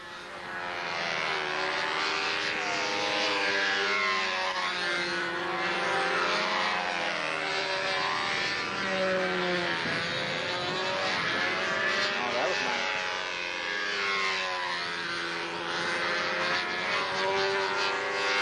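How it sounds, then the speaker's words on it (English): A model aircraft engine flies at a 2003 national competition, its high buzzing drone sustained and fairly loud throughout with shifting pitch as the plane manoeuvres, while people talk over it. "What Bill has that's real good on his flight is he's got the motor right on the edge."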